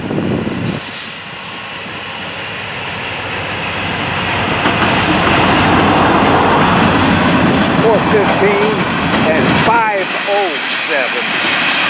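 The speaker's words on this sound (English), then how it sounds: "Friendly wave from the cab, and yes, they are Herzog dumpers." An empty freight train of Herzog dumper cars rolling past, a loud, steady rumble and rattle of wheels that builds and holds close by, with squealing wheel flange tones near the end and voices talking over it.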